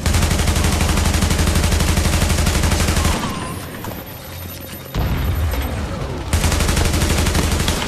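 Automatic gunfire in the shooter video game The Division comes as loud, rapid continuous bursts that briefly drop out and then resume at full intensity.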